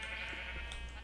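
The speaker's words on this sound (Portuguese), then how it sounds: "Uma ovelha." A sheep bleats in Minecraft, a single drawn-out bleat sitting over a steady low background hum, with no talk over it.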